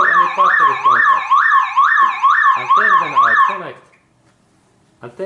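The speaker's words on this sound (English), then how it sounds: "when I take minus cable out, alarm is on" A Toyota Camry's alarm siren whoops loudly in slow rising-falling cycles for several seconds, then cuts off abruptly into near silence before a brief noise at the end.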